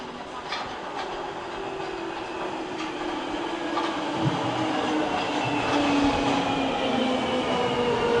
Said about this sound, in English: Here comes another Jubilee Line train in the other direction.